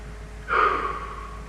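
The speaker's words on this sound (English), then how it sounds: "Go ahead and take a nice deep breath." A single deep breath drawn during a guided meditation, a soft breathy rush lasting about a second that rises quickly and tails off, close and clear with no talk.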